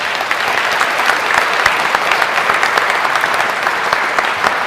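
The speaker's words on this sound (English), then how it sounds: "I think we can give them all a round of applause for a fantastic day" Loud, steady audience applause for speakers on stage after a Q&A session, a dense and even wash of many hands clapping close by without pause.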